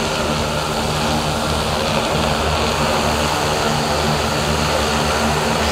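An agricultural spraying drone flies overhead in Karnataka, spraying pesticide on crops, its propellers making a loud, steady, unbroken droning buzz throughout.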